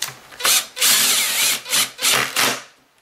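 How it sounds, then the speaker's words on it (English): A power drill driving three small screws into the transmission bracket of a Kirby Avalir vacuum during a repair, heard as several loud, close whirring bursts of about half a second each with short pauses between them. "Grab our drill and just tighten those up."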